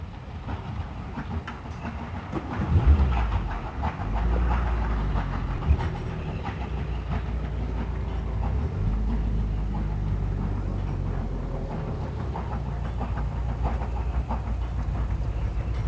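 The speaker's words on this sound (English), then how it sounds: "As the two trains approach Levisham" Steam trains on the North Yorkshire Moors Railway approaching Levisham station, a steady low rumble of rolling wagons and chuffing with rail clatter building and holding throughout, fairly close and continuous, with no talk.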